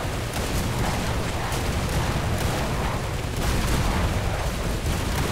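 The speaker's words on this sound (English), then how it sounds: "Oh my god, look at that incoming fire" Incoming naval artillery fire in a warship combat game, a dense continuous roar of shell impacts and blasts, loud and steady throughout with no clear gaps.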